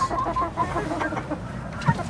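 Several chickens, including Sussex hens, cluck and murmur close by in a busy, continuous chatter, with a slightly louder squawk near the end.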